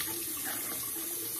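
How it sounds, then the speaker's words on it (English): Tap water runs steadily into a sink during face washing, a continuous close hiss and splatter with no pauses. "So this is how I wash my face"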